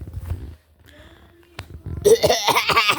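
A single close cough from a person, followed by a brief pause and then loud laughter or excited vocal sounds, indoors.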